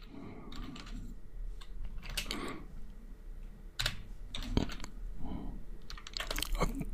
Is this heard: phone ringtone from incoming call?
no